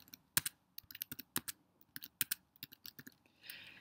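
Rapid keystrokes on a computer keyboard enter a test credit card number at a point-of-sale checkout, a close, irregular run of crisp clicks in a quiet room.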